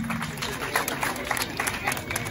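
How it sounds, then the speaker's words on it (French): An audience at an official school cultural ceremony at a lycée applauds, steady mixed clapping from a crowd with voices audible underneath. "Des applaudissements."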